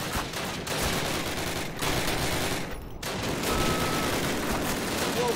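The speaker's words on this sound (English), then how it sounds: "Lay down a base of fire." Sustained automatic fire rattles through a Call of Duty battle, dense overlapping shots rolling on with brief lulls, loud and close against a noisy war backdrop.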